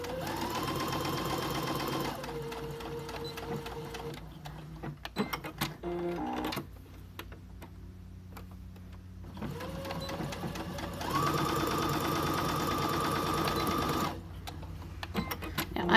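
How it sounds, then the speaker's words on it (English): A household sewing machine runs a straight stitch through stretchy fabric for a hair bow, whirring in steady runs broken by brief pauses and restarts, close up and fairly quiet. "I'm going to sew, leave a gap, and sew a little further."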